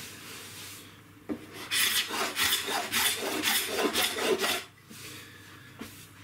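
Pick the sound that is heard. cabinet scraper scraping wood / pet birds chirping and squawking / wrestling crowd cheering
cabinet scraper scraping wood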